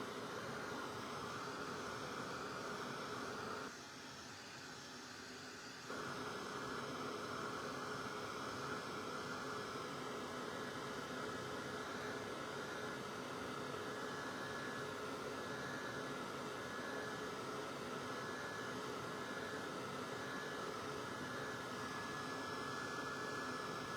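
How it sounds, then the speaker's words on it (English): A handheld heat tool blows steadily while drying crafting embellishments such as polka dots, a continuous loud whooshing hum that cuts out briefly for about two seconds, then resumes and runs on without talk. "we're going to hit those with the heat tool"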